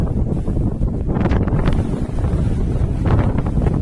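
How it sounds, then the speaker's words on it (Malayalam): Strong wind buffets the microphone on Ezara beach in Kannur, Kerala, a loud, continuous rumbling roar with gusty surges throughout and no voices. "ആഹാ, എന്താ കാറ്റ്!"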